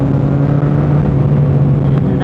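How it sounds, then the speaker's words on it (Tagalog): A Yamaha MT-09 motorcycle engine growls loud and close, holding a steady deep drone with a strong low hum. The engine stays constant for the whole short stretch. "Grabe, bulahaw ang MT-09"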